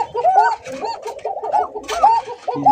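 Male magpie pigeons coo in a continuous, overlapping series of throaty warbling calls, loud and close, filling the whole stretch without a break.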